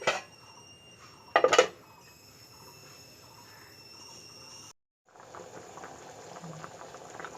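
Soybean and potato curry bubbles in a pot with a soft, steady simmer, a brief louder gurgling burst near the start and a short silent gap before the bubbling resumes, heard up close.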